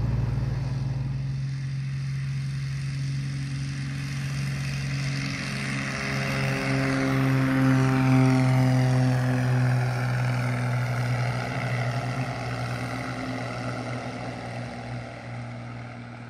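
A propeller aircraft flying with a Punjabi pilot trainer, a steady droning engine hum that holds loud throughout with tonal whine sweeping in pitch, no voices.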